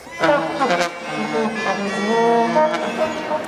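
Several reedy, nasal medieval wind instruments, including the sackbut, serpent, racket and crumhorn, play at once in a dense, clashing ensemble, their held notes overlapping without pause.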